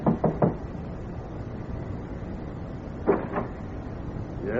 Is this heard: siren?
no